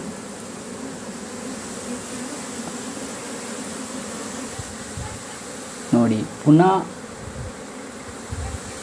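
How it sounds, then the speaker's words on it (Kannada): Honey bees from a hive buzz steadily around a flowering plant that gives nectar, a constant close drone throughout, with a person briefly speaking over it near the end. "ಆ ಜೇನುಗೂಡಿನ ನೊಣಗಳು ಗಿಡದಿಂದ ವಾಪಸ್ ಬಂದು ತಮ್ಮ ಹಳೆಯ ಗೂಡಿನ ಮುಂಭಾಗದ ಮೇಲ್ಭಾಗದಲ್ಲಿ"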